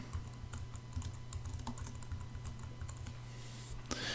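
Rapid, steady keystrokes on a computer keyboard as an item name is entered in course content software, close and clear over a low steady hum, with no speech.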